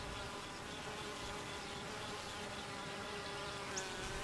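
Honey bees buzz in a dense, continuous hum around the comb cells, steady and close with no voices.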